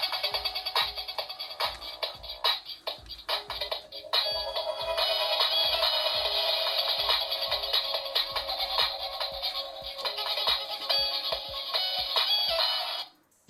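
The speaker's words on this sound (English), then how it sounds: "That's the Victory Royale noise." A tinny electronic Fortnite Victory Royale jingle plays from a small speaker on a Jazwares Fortnite Drift toy, bright and busy, sustained for several seconds before cutting off abruptly, with soft clicks underneath.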